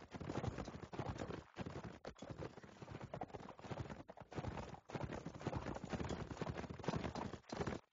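Rapid rhythmic hoofbeats of a galloping horse in a video game, steady and close, carrying on for several seconds with brief gaps.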